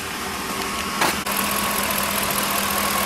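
A Ford 5.4 liter Triton V8 truck engine idles steadily with a low, even rumble, close by, with a brief clatter partway through.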